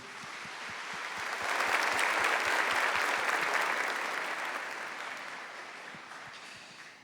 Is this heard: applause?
yes